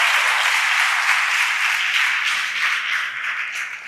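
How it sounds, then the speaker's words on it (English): A large audience at a university recognition ceremony gives a singer a sustained round of applause, dense and loud clapping that eases off slightly toward the end. "Can we give her another round of applause?"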